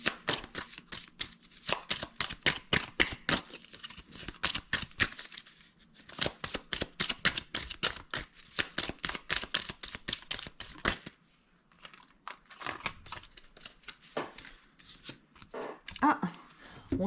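A deck of oracle cards is shuffled in rapid, crisp riffling bursts that repeat over and over, with short pauses and soft card handling between rounds.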